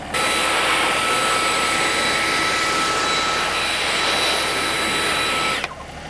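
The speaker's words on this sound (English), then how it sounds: "That's a blower." A leaf or debris blower runs steadily and loudly, blowing sawdust around a tree stump behind a property, a continuous roaring whoosh that holds level for several seconds before cutting off abruptly near the end.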